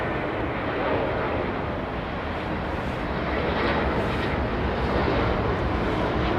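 Airbus airliner on the runway at London Heathrow Airport, a steady broadband engine roar that stays loud and constant throughout with no talk.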